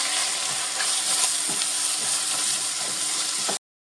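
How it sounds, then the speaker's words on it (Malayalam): Masala with coriander powder and garam masala sizzles as it is sautéed in a pan, a continuous close frying hiss broken by soft stirring scrapes, ending abruptly. "ഇത് നല്ലോണം ഒന്നുകൂടെ ഒന്ന് വഴറ്റിയെടുക്കാവേ."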